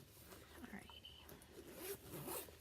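A makeup bag's zipper pouch is opened and closed with several quick, close zipping strokes, fairly quiet, with soft handling rustles between them.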